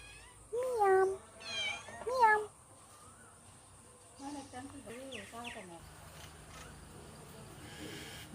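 A small cat, waiting outdoors for curd rice, meows several times in clear drawn-out calls, with quiet gaps and soft background noise between them.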